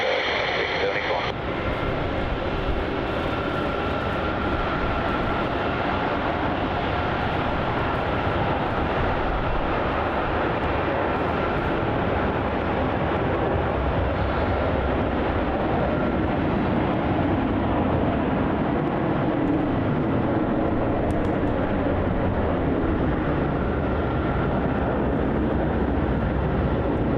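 Qantas airliner landing at Melbourne Airport, a steady broad engine roar sustained throughout at moderate distance, with radio voices talking over it.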